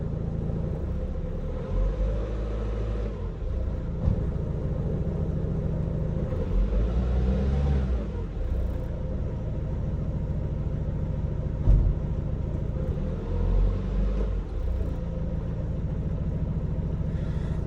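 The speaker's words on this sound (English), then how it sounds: "Now if I give it a little bit of revs" An everyday daily-driver car's engine runs with a steady low rumble and mild rises in revs, heard close and continuously for the whole stretch with no talking.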